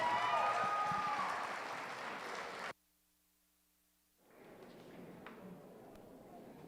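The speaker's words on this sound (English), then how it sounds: "Give him a nice round of applause." A crowd at a youth fair market steer show applauds, a dense burst of clapping that cuts off abruptly, then after a short silence a fainter, scattered round of applause returns.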